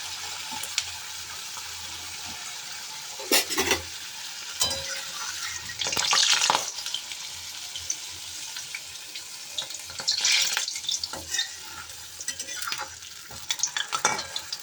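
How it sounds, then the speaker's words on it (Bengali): Paneer koftas fry in very hot oil with a loud, bubbling sizzle that surges in bursts, broken by clatters and scrapes of a utensil moving them, heard up close with no talking. "তেল ভালো করে গরম হয়ে যাওয়ার পরে এই কোফতাগুলো ছেড়ে দিচ্ছি"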